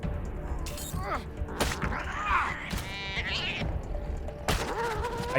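Cat meowing in the video game Wasteland 3 during melee combat, several short rising meows and yowls mixed with thwacks, hits and game sound effects, fairly close and loud.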